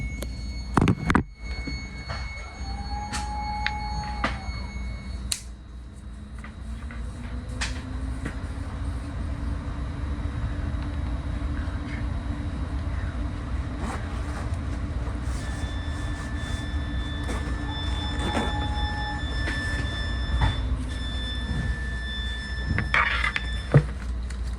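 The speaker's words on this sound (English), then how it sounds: "here we are pulling out" Caltrain northbound local train pulling out of a station, heard from on board as a steady low rumble builds and holds, with brief tonal whines and occasional clanks.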